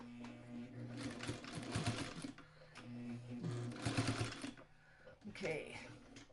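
Home sewing machine stitching a fabric quilt carrier, in several bursts of rapid rattling chatter separated by short pauses, close and clear.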